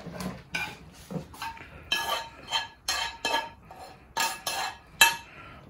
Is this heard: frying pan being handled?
yes